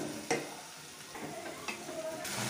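Finely chopped onions fry in hot oil for a restaurant-style chicken curry, a soft, quiet sizzle with a few light spoon scrapes and clicks against the pan.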